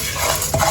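Dal dry roasting without oil in a wide pan is stirred briefly, a short scrape of a spoon with rattling grains, close and fairly loud.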